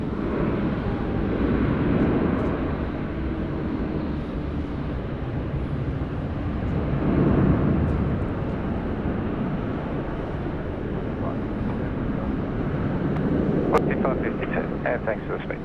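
Qantas airliner departing runway 16 right at Sydney Airport, a sustained engine roar rising and falling in broad swells, with intermittent background talk and a few brief higher-pitched clicks near the end.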